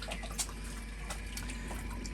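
Water trickles into the filter system of a quarantine pond, a soft, steady running flow with a few small splashes, heard alone without talk.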